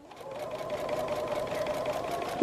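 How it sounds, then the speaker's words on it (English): A sewing machine stitches the seam of a quilt block in one steady, continuous run with an even mechanical hum, close and fairly loud, with no talking. "I'm sewing the center of my seam to the center of my seam"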